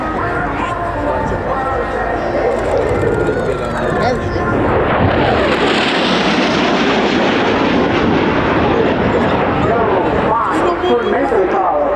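A Eurofighter Typhoon jet roars past at full power at the RIAT airshow, a loud, continuous broadband rumble that swells and sweeps across the whole clip, with a commentator talking over it.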